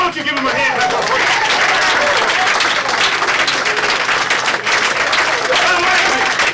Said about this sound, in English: give him a hand clap of praise